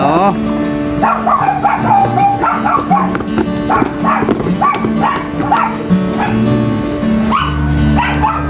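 A dog barks and yips repeatedly in quick bursts, close and loud, with a few whimpers between barks.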